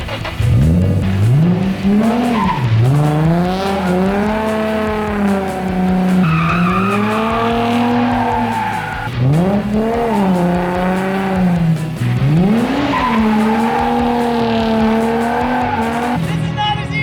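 A car drifting through handbrake J-turns, tires squealing in long rising and falling skids over engine revving, repeated several times close by.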